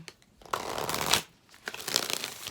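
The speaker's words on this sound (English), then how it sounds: "Oh, one more shuffle" Two bursts of crisp, riffling tarot card shuffling, close up, each lasting under a second with a short pause between.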